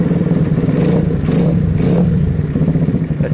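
A motorcycle engine idles steadily and loudly up close after a spark plug repair, running with an even, slightly uneven putter and faint clatter throughout.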